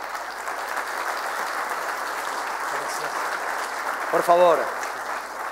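Steady applause from a conference audience welcoming a speaker fills the whole stretch, with a voice briefly speaking over it near the end.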